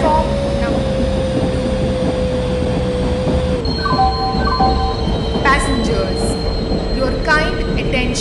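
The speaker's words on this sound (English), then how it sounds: "Goods Express is arriving at platform." A goods express train rolls into a platform in an Indian railway simulator, with a steady rumbling drone, a long squealing tone from the wheels, and higher whistle-like tones and clanks joining partway through.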